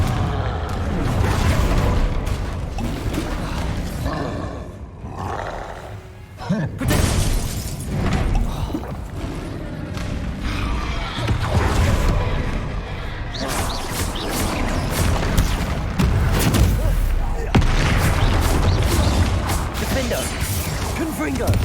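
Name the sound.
Confringo blasting spell explosions in a Harry Potter video game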